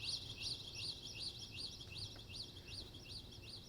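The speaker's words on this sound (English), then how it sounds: "There are even birds." Small birds chirp in a rapid, repeating series of high, bright calls over a quiet background hum, faint and fairly distant, near a fenced forest path.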